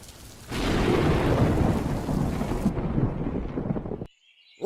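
Cartoon thunderstorm: a sudden burst of rumbling thunder over heavy pouring rain that roars steadily for a few seconds, then the rain noise cuts out abruptly into near silence.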